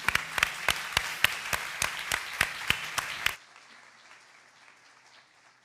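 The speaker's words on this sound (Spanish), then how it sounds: "Inês Castanheira, para quem peço uma salva de palmas, por favor." Applause from an audience at a public talk event, a burst of sharp, evenly spaced claps close by that stops abruptly partway through, leaving quiet room tone.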